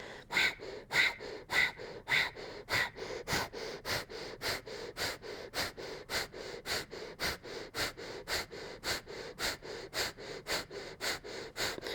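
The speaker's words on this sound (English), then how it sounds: "we're gonna do breath of fire here" Rapid rhythmic nasal breathing in Kundalini yoga's breath of fire, sharp even exhales pumping about twice per second close to the microphone, sustained without pause.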